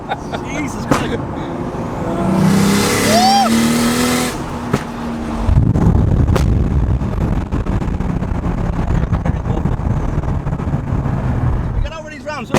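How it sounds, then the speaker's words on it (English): A rebuilt 600 bhp Toyota Supra revs hard with anti-lag active, sending close, loud engine surges and sharp popping backfires along a road, while people talk in the car over the engine. "I'll give her an anti-lag on past the joggers"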